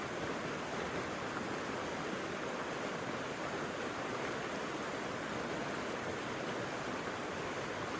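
Shannon Falls, a waterfall in the Pacific Northwest, sends up a steady, dense roar of rushing water that holds an even level from start to end with no voices.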